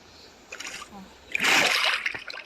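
A burst of splashing, rushing water in Minecraft swells in the middle and trails off, with a soft murmur of talk underneath.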